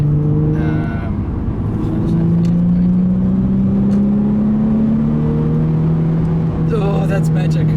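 A Nissan 350Z HR with a naturally aspirated engine revs and pulls hard, its droning tone rising steadily in pitch and then leveling off, loud and close, with short bursts of voices at the start and end.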